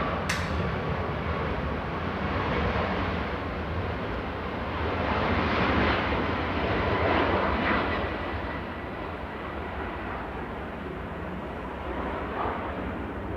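A Ryanair airliner bound for Murcia moves at Manchester Airport, producing a continuous broad jet rumble that swells gently midway and then eases, heard alone at moderate distance.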